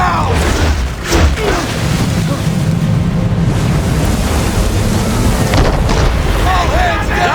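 Cannon volleys boom from a sailing warship during a naval battle in Assassin's Creed 3, dense low rumbling blasts over crashing waves, with shouted crew voices in the mix throughout.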